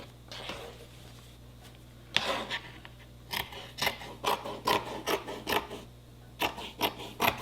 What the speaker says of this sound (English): I am going to cut off this edge here